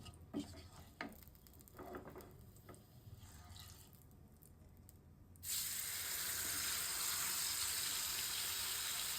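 Some clattering and stirring, then a loud, steady sizzle of onions frying in a hot pan takes over and continues.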